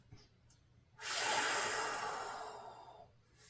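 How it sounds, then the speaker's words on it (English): A long, steady deep breath during a golf core workout, a broad airy rush that swells and slowly fades over about two seconds, close and alone. "Nice deep breath."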